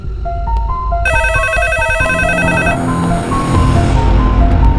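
A loud electronic phone ring sounds, its bright tones shifting pattern partway through, over a dense background of music and noise.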